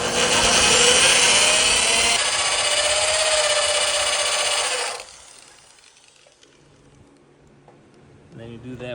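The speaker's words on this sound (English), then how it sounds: "then you get the drill." A loud, high-pitched power drill whines steadily for several seconds drilling out spot welds on a Mk4 GTI seat, then stops, leaving quiet room noise and a brief voice at the end.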